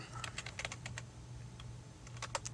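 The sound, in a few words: typing on a computer keyboard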